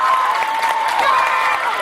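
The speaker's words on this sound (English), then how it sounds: "And that's got this Gehlen Catholic crowd fired up." A Gehlen Catholic crowd at a 2014 high school substate baseball game cheers and claps after a run scores, a loud, steady roar of mixed voices and applause.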